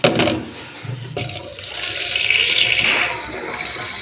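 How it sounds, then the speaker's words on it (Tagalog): Water gushes and splashes loudly into a sink while a stamp set is being washed, starting with a sharp clatter and then running steadily nearby. "Dito na lang ako sa lalababo, guys, maghuhugas."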